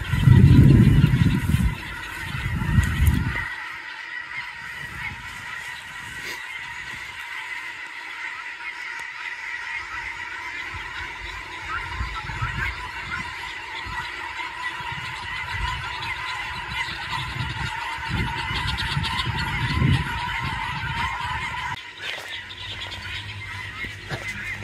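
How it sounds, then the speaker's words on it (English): A large flock of guinea fowl calls from a roadside with a dense, continuous chatter of harsh cries. Loud rumbling bursts come through in the first few seconds. "There's about a million guinea fowl."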